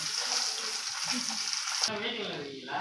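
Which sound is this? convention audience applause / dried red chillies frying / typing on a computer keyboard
dried red chillies frying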